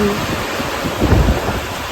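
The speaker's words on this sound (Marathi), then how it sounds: "असा कंटिन्यू पाऊस आहे आपल्याकडे" Steady roar of heavy rain with a low rumble swelling briefly in the middle, no voices.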